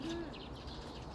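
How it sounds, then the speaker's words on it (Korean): Birds chirping in a forested garden, a few soft high calls and one brief tonal note, faint and distant over quiet background hiss. "근데 새소리가 참 새가 많아 좋네."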